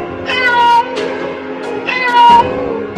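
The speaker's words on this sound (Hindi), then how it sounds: "लगता है वो इस बिल्ली के बच्चे की माँ है।" An angry mother cat in a cartoon lets out loud, close meows: two long drawn-out yowls with a shorter call between, each rising and falling in pitch, no talk.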